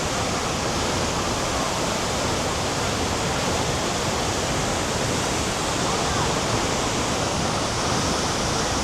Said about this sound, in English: of the Tegenungan Waterfalls.